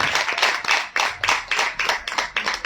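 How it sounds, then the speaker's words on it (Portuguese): Rhythmic clapping from a church congregation during a bilingual Portuguese-English sermon, steady repeated hand claps in a loose beat, fairly close and loud with no talk over it. "Let's put hands together for Jesus."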